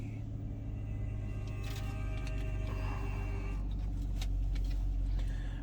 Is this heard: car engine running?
yes